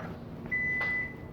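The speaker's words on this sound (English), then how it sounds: "when the timer goes off in about 10 seconds" A kitchen timer goes off during iced tea latte making, sounding as a single sustained electronic beep of about half a second, clear but modest in level over quiet room tone.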